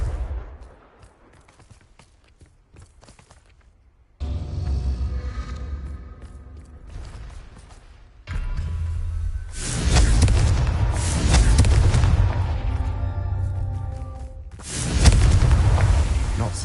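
Confringo fire spell blasts in Hogwarts Legacy land as deep booms and crackling bursts that come in several loud waves after a quiet start, with rumbling low end and busy combat noise.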